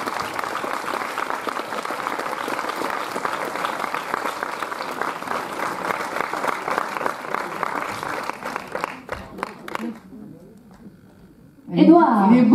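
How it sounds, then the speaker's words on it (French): A film premiere audience applauds steadily and loudly for about ten seconds, the clapping thinning and fading out before a voice begins speaking at the end. "On l'applaudit bien fort."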